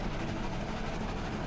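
A moving train's interior gives a steady, even hum and rumble that stays unchanging and unbroken over a short stretch, with no voices over it.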